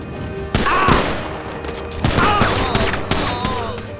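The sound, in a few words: gunfire burst from a pistol in GTA 5 video game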